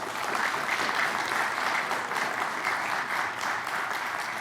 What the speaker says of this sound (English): I interrupted your applause